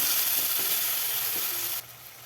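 Onion and tomato sizzle loudly in a pan for a Kerala-style spicy sardine curry, a dense hiss with light stirring scrapes that cuts out abruptly near the end.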